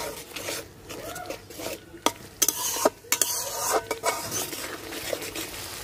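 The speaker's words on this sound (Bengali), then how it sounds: "এখন বাটা মশলাটা দিয়ে ভালোভাবে কষাই নিব" A spoon scrapes and stirs spice paste frying in a pan for a katla fish dish, with soft sizzling under repeated sharp scraping strokes, close up and without talk.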